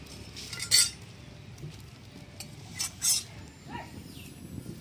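A metal spoon stirs fish curry with potato in a pot, giving a few sharp clinks against the side amid soft scraping and a low background hum.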